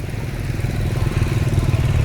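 A motorcycle engine bought in Cambodia sputters and runs up close at a mechanic's, a loud, rough, uneven chugging that holds steady without speech.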